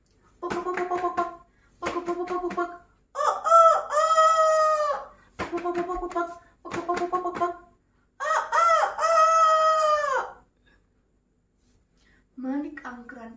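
Rooster crowing repeatedly in a staged retelling of the Bali Strait legend, several long cock-a-doodle-doo calls with clucking bursts between them, loud and close, probably voiced by a person imitating the bird.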